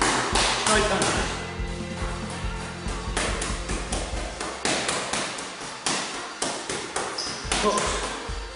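Straight punches smack into small martial arts pads in a training session, a rapid run of sharp, close impacts one after another, loud and steady across the whole stretch.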